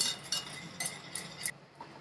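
A spoon clinks repeatedly against a bowl while stirring vinegar, soy sauce and tomato ketchup for a fried chicken marinade, a close, fairly quiet series of bright taps in an uneven stirring rhythm, with no talking.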